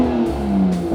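A Toyota MK5 Supra engine revs toward a raised 6,500 RPM redline, a brief loud close burst with the pitch dipping and then climbing again, no voices.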